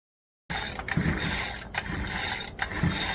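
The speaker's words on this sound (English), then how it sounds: "I'll just move the flywheel by hand" Petrol chainsaw flywheel turned slowly by hand after freeing up, giving a continuous close mechanical whirring and ratcheting with a few soft clicks and brief catches, starting after a half-second of silence.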